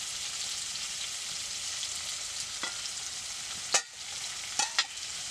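Cauliflower and potatoes fry in hot oil with spices for a tilapia curry: a steady, close sizzle with a few sharp clinks of stirring near the end.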